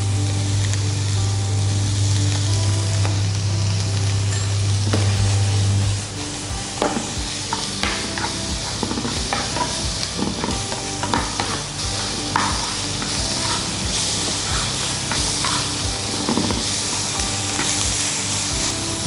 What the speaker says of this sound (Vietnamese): các bạn sẽ xào lửa nhỏ để cho mà những thịt này nó săn lại và nó không bị cháy